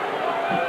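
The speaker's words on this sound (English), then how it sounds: "You hear the crowd yelling, too." Crowd noise at a high school state wrestling match, a dense, steady roar of yelling and cheering from many spectators, continuous and fairly loud through the short moment with no clear breaks.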